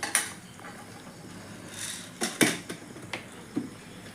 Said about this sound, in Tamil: முட்டையை உடச்சி ஊற்றியாச்சுங்க. நான் அப்படியே கரண்டியை வச்சு இளக்கணும்.